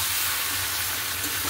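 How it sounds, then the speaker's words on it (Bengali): Chicken is sautéed in a pan with already-fried potatoes that carry salt and turmeric. It gives a loud, continuous hissing sizzle with no pauses. "তো দেখো চিকেনটা সুন্দর করে কষাচ্ছিলাম"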